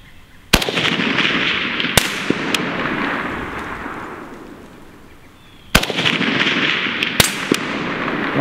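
AK-47 rifle shots from a Century Arms VSKA fired at steel targets on an outdoor range, several loud sharp cracks with long rolling echoes between them, the later shots coming in a tighter cluster.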